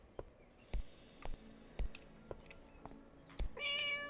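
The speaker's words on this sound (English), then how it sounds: "Oh, a little kitty!" A cat meows in an escape room video game, a short rising cry near the end after a few soft clicks and taps from the game.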